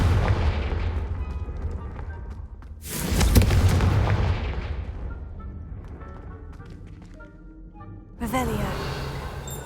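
A Confringo fire spell bursts in Hogwarts Legacy as a loud booming blast with a sharp onset, then rolls off over a few seconds amid game music and ambience, followed by a second brighter burst near the end.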